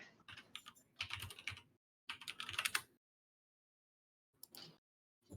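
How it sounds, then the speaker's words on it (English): Quick clattering bursts of typing on a computer keyboard, three close together and then a brief tap after a pause, with silence between the runs. "it kind of sounded like you were about to hack somebody with your keyboard"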